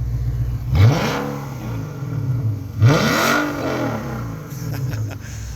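A 2011-era Infiniti M56x AWD with its large V8 idling, then revved twice in quick sharp blips, each rising and falling back to a steady near rumble from the exhaust tips, with a lighter blip toward the end.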